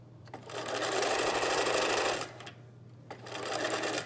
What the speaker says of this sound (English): I'm going to sew over that piece of elastic back and forth